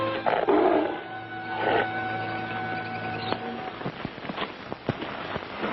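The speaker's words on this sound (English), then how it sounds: "Big tiger." A big tiger in a jungle trap gives deep, rough roaring bursts close by, the calls trailing off into scattered rustling and thumping movement.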